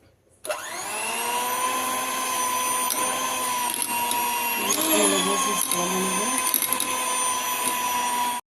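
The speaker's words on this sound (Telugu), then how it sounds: "ఇప్పుడు దీన్ని మనము గ్రైండ్ చేసుకుందాం." A mixer grinder whirs loudly and steadily with a high motor whine, its pitch dipping briefly midway as the contents shift, then resuming until it cuts off.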